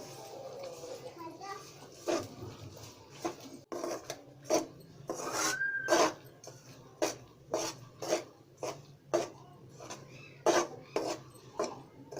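A spoon stirs jaggery in a pan over very low heat for gur gachak, making repeated rasping scrapes in an uneven rhythm, loud and close, with a voice and other talk in the background.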